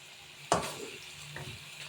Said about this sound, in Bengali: দিয়ে দিব পেঁয়াজ কুচি 2টা, দিয়ে পেঁয়াজটা আমরা একটু ভাজবো